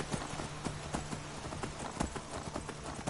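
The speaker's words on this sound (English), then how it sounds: "But the only other horse in the game you can summon with magic is Arvok" Horse hooves clip-clopping in the Skyrim video game, a steady run of sharp hoof strikes repeating at a quick trotting rhythm over a dense game background, loud and near with no talk.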